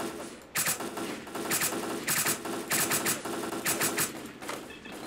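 Rapid automatic gunfire in the shooter game STALKER Clear Sky comes in repeated bursts over a steady background din. Each volley is loud and close, with short gaps between them.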